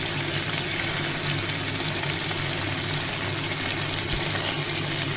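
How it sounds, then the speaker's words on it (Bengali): Tomatoes and dried red chillies fry in hot oil with whole cumin, giving a steady, close, continuous sizzle and crackle that holds at an even level with no talking. "শুকনো লঙ্কা তেলে দেব এই পর্যায়ে আমি এর মধ্যে টমেটোগুলো দিয়ে দেবো"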